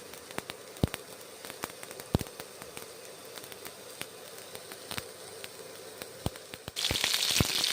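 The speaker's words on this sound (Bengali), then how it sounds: "সর্ষের তেল দিয়ে পেঁয়াজ কাঁচা লঙ্কা গোটা জিরে ভেজে নিচ্ছি ভালো করে" Onion, green chili and whole cumin frying in mustard oil, a steady low sizzle with scattered sharp pops and crackles, swelling into a louder hiss near the end.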